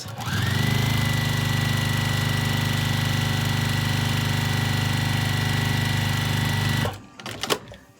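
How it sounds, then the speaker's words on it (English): A Juki sewing machine stitches at high speed in one steady, loud, continuous run of dense needle clatter for about seven seconds, then stops, leaving a few soft handling clicks. "let me show you how I sew in real time. I love my Juki, it goes so fast."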